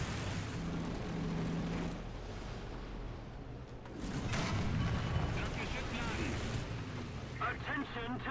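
A tank cannon fires in War Thunder, a heavy boom landing about midway, set against a constant rumbling engine and battlefield noise, with a radio voice talking near the end.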